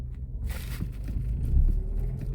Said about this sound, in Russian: Шум такой, как от привода, когда привод же этот слетает. Ну-ну. Такой же шум, такой тихий, трещит.